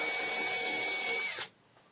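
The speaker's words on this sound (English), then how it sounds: "I drilled through the backing board straight into the wall to give me 2 mark points." Power drill boring through a wooden backing board into a wall, a loud steady whine held close for over a second before cutting off abruptly, leaving quiet room tone.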